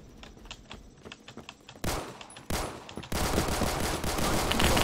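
Pistol fire in Roblox Phantom Forces: a string of sharp, separate shots rings out early, then a denser, louder crackle of gunfire builds and carries steadily to the end.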